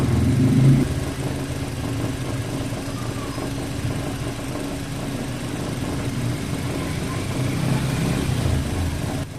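A Suzuki Ertiga engine runs steadily nearby with a strong misfire after overheating, an uneven, stumbling rhythm under its low rumble, no voices present.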